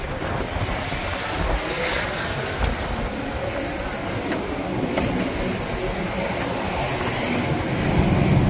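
Small airplane waiting at Split airport in steady rain, a constant broad rushing wash with engine rumble and a few faint clicks, evenly loud throughout and no talking.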